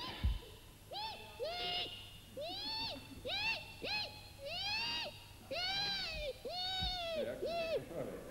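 A human voice imitates the call of a northern lapwing, a wading bird, giving about a dozen short rising-falling whistled cries in an irregular series, close and clear, with faint room noise between calls.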